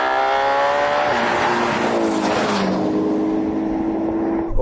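A Ferrari Purosangue SUV accelerating hard in a drag race against a BMW X5 M, a loud, rising engine roar with gear-change steps that swells and then fades, with no voices.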